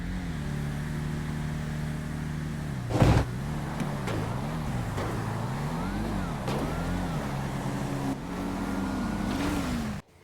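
Corvettes drag racing in GTA V, a continuous engine roar with rising and falling revs through gear changes and a sharp bang near the start, steady and fairly loud until cutting off at the end.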